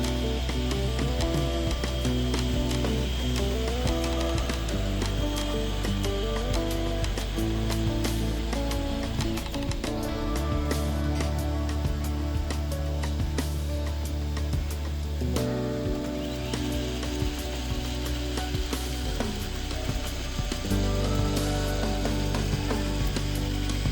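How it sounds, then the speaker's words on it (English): A Box Turtle filament changer on an IDEX 3D printer runs a filament change, giving off continuous mechanical whirring, clicking and ratcheting gear sounds. The noise is close and busy, shifts pattern several times and carries no speech. "You're now watching a filament change on T1, which takes approximately 40 seconds."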